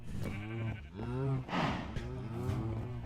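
Sheep in the Minecraft video game bleating, several drawn-out wavering baas one after another at close range, with a voice heard faintly alongside.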